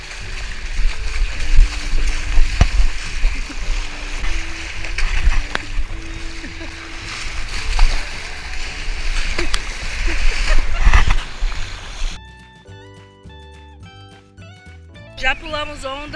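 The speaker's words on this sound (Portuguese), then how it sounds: "Agora nós vamos pular ondas." Ocean waves splash and crash at a beach as people jump over them, with loud irregular surges and sloshing under excited talking and shouts, ending in a stretch of music.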